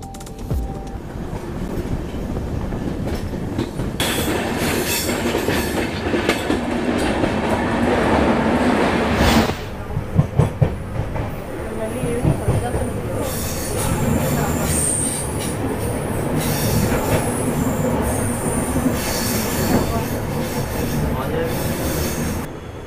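Train running on rails, heard from the rear coach on the Araku valley line: a steady loud rumble of wheels with squealing and rhythmic clatter throughout, a brief burst of sharp knocks partway through.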